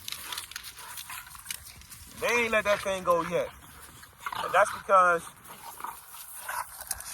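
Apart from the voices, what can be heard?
puppies biting and playing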